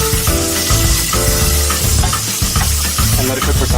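Tomato paste is stirred into a sizzling pan on a cooking show, giving a steady, close frying hiss with scraping stir strokes throughout and no talk.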